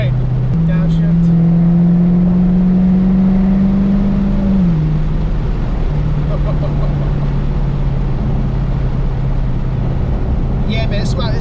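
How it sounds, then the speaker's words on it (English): A supercharged Dodge Charger Daytona Hellcat engine heard from inside the car, droning loud and steady as it accelerates, then dropping in pitch at a downshift before holding a lower hum. "It's just something about like the supercharger sound that you hear."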